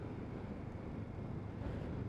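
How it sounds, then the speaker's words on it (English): Wind blows outdoors on a gusty day, a steady low rumble of buffeting against the microphone with no other sounds, moderately loud and unbroken. "it'd be a fantastic day if it wasn't for the wind"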